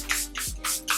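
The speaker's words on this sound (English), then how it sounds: "using my Charlotte Tilbury Airbrush Flawless Setting Spray." Charlotte Tilbury Airbrush Flawless Setting Spray misting in four short, airy bursts, spaced evenly and close up, with no talking.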